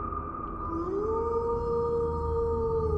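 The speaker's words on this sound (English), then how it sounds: "A pack of werewolves howling, followed by one deep, menacing, and terrifying roar." Howling of werewolves as a spooky story effect: a sustained, rising and then level wail carried over a steady low rumble, drawn out and continuous.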